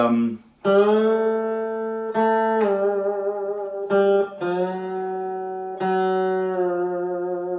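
Distorted electric guitar plays sustained notes that bend up into pitch, several phrases in a row, loud and close with no talking.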